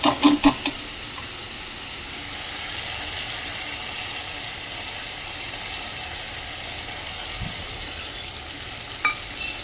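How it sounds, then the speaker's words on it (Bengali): Spice paste frying in a pan for an eggplant curry, a steady moderate hiss with a few sharp spoon knocks at the start and occasional soft clicks later. "এখানে যে মশলাটা ভালোভাবে ভালোভাবে কষতে নিচ্ছি"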